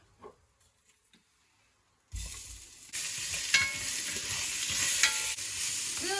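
Onions hit a hot pan for an osso buco Milanese sauce: quiet clinks, then a sudden loud sizzle that swells into a steady fry with occasional stirring scrapes.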